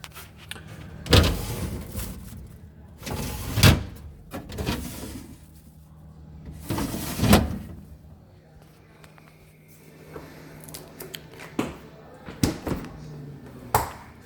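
Large drawers in a Frigidaire Gallery FGSS2635TF8 refrigerator slide open and shut, giving a few loud, close thumps and clunks separated by quieter rustling and handling noise.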